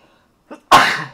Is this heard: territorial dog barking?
no